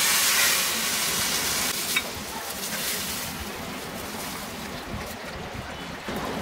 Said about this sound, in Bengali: এনে এর উপরে আমার এই বাগারটা ঢেলে দিতে হবে